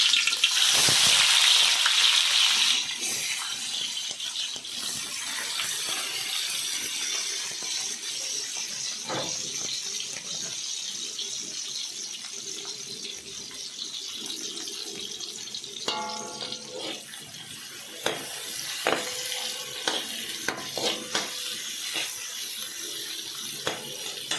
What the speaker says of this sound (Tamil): ஸோ நீங்கள் தேவையான அளவுக்கு வெங்காயத்தை நல்லா பொரி விடலாம்.